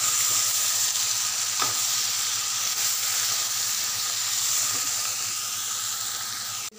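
Bitter gourd and tomatoes fry in a pan with a loud, even sizzle and hiss that hold steady throughout, with a faint clink or two, and cut off abruptly at the end.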